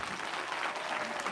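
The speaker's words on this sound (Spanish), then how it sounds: "Fuertes palmas, pues," An audience applauds Padre Luis at a church gathering, a dense, continuous burst of clapping from many hands at close range.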